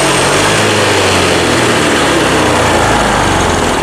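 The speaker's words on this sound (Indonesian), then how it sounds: "Coba saya geber lagi." A 2020 Yamaha Beat scooter engine revs steadily, a loud, close, continuous buzzing drone with a slow-rising pitch and no break, set to factory mode and sluggish to gain RPM.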